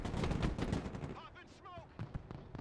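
Gunfire in the military strategy game Broken Arrow, a burst of rapid, close shots in the first second followed by scattered sharper pops and faint radio-like voices.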